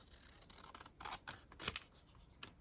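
Paper being cut down to size with scissors for a travel journal, a few quiet snips and rustles up close with no talking.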